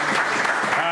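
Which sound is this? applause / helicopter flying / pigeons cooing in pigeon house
applause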